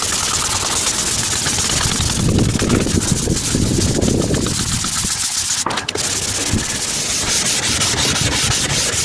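Car headlight being wet sanded by hand with wet and dry paper, a close, loud, continuous rhythmic rubbing and scrubbing with a brief pause partway through.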